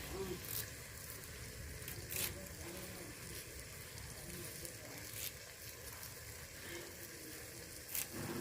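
Onions and fresh curry leaves sauté in a pan with a faint, continuous sizzle, broken by a few sharp scrapes.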